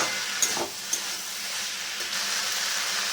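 Chopped banana blossom, darkened from sitting since morning, sizzles steadily in a hot pan while being stirred, with a couple of brief scraping knocks over a continuous hiss of frying.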